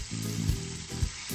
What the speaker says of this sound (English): add the marinated fish pieces to the hot oil for frying